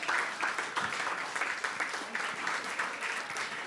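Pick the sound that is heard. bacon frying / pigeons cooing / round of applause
round of applause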